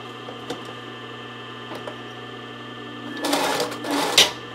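A sewing machine stitches fold-over elastic onto a sports bra, starting with a steady motor hum and a few isolated clicks, then breaking into a louder rapid run of stitching toward the end.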